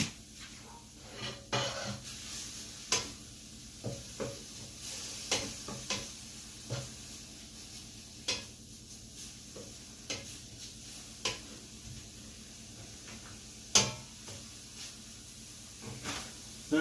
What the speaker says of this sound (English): just let that fry a little bit, get it a little bit crispy